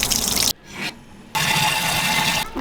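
Water running from an outdoor tap while refilling at a campsite stop, a steady rushing splash that cuts out briefly twice before flowing again loudly and close.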